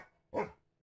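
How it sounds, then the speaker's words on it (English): A single short dog bark, faint and isolated, with a brief lead-in and quick fade. "we mark louder sounds like a dog barking"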